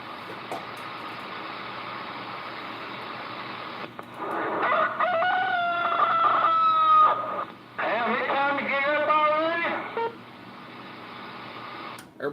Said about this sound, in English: Man, I just heard a rooster crow.